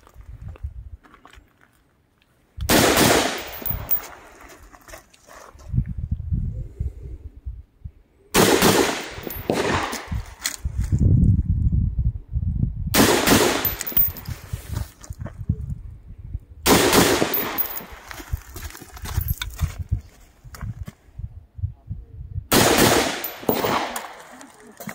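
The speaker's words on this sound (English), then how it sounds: "after shooting the AR-15, about 260 rounds" An AR-15 rifle firing outdoors at a range, repeated bursts of rapid loud shots in five separate strings with pauses between, close and harsh, with quieter background sounds and bits of talk in the gaps.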